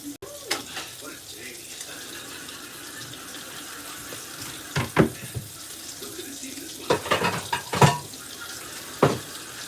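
Water runs steadily from a kitchen tap while hands are washed, with occasional clanks and knocks of dishes or utensils in the sink rising above the constant stream.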